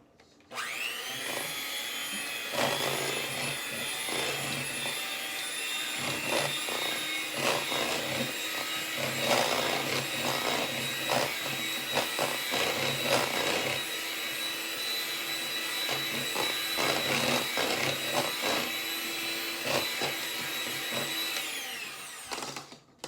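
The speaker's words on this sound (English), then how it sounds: "I'm going to use a mixer, and we're going to mix this together" An electric mixer whirs steadily while beating banana cream pie filling in a bowl, a continuous high motor whine with beaters clattering against the sides, running for about twenty seconds before stopping.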